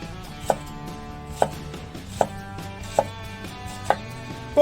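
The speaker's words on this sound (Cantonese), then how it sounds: "洋葱就需要將佢切粒" A knife dices onion on a cutting board for brown chicken stock, with six crisp, evenly spaced chops close by, set against quiet background music.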